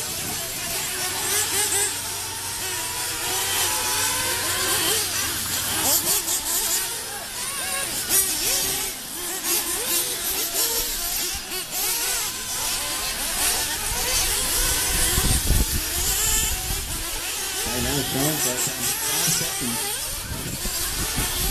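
Nitro RC buggies race on a dirt track at the River Rat Raceway summer event, with many high-pitched buzzing engines revving and whining together continuously, near and far.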